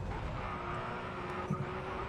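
A Ford GT engine in the Racing Master mobile racing game gives a quiet, steady drone with a faint whine, fairly low in level and continuous across the brief stretch, with no talking.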